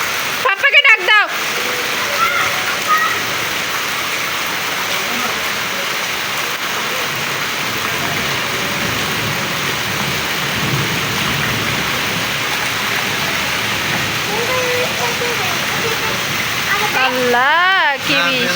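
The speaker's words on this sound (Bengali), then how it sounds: "আল্লাহ কি বৃষ্টি।" Heavy rain pours steadily and loudly in Cox's Bazar, a dense continuous hiss lasting throughout, with voices of a father and children breaking in briefly at the start and end.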